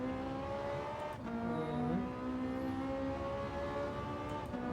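A Porsche 918 Spyder or McLaren P1 hypercar engine in a VR racing game drones steadily throughout, its pitch climbing and dropping with gear changes, loud and close with a synthetic game-like tone.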